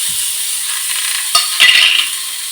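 Mustard seeds, cumin and asafoetida hitting hot oil in a pan, giving a steady, bright, hissing sizzle with a couple of spoon or pan clinks, close and with no talking.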